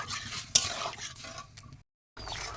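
A spoon stirs taro stem and fish curry in a pan with soft scraping and a single clink, followed by a brief silence and then a faint resumed scrape.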